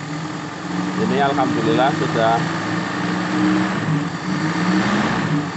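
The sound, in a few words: motorcycle engine idling after carburetor adjustment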